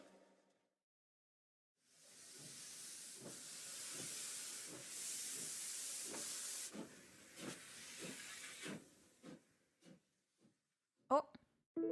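A train bound for the capital in Happy Saint Sheol releases a long, loud hiss of steam that runs for several seconds, followed by short sharp bursts and clanks as the hiss fades.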